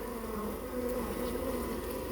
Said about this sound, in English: they look like they might be nurse bees that are just young bees that are just cleaning up the comb